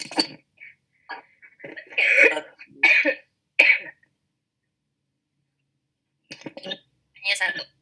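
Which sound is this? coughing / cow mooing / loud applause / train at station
coughing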